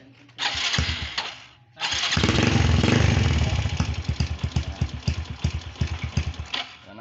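A Suzuki Smash 115 motorcycle engine cranks, catches and then runs loudly up close, settling into a fast, throbbing idle with sputtering pulses.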